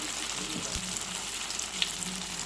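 Small punugulu fritters of batter fry steadily in hot oil, a continuous soft sizzle with faint crackles and a couple of brief clinks near the end, no voices.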